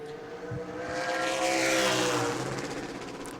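A super late model race car finishing its qualifying run at New Smyrna Speedway, its engine droning steadily and swelling louder as it passes mid-distance, then easing slightly, with no talk over it.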